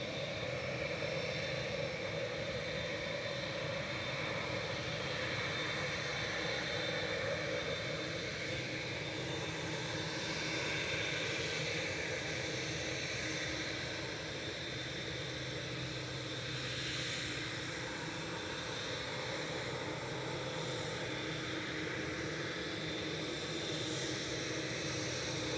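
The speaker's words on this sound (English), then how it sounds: "we got another heavy going. It's a 787-10 Dreamliner heading back to Abu Dhabi for Etihad" An Etihad Boeing 787-10 Dreamliner, a widebody twin-jet, takes off at Manchester Airport with a steady, broad engine roar that stays level and continuous for the whole stretch, moderately loud and heard from a distance with no talk over it.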